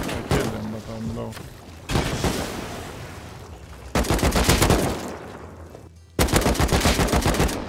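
Bursts of AK rifle fire in the survival game Rust, several loud, close volleys of rapid automatic shots separated by short pauses, with a voice speaking briefly at the start.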